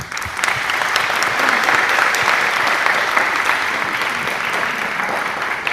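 Steady, dense applause from an afternoon event audience honoring elected officials, sustained and fairly loud throughout with no break, the clapping crowd sounding close and even from start to finish.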